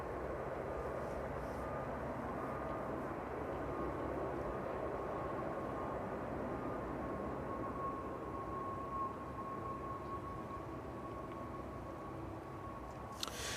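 Aircraft rolling down runway 27 at East Midlands Airport in evening fog, heard from afar as a steady, low, continuous roar with a faint whining tone that holds across the whole stretch.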